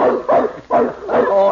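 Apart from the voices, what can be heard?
dog barking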